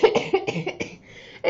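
A single person coughs several times in quick succession, close and fairly loud, with short bursts and a brief pause before a final cough.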